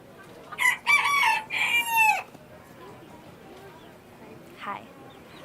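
A rooster crows loudly at a state fair poultry showmanship event, one long close cock-a-doodle-doo followed by a faint cluck, with people talking nearby.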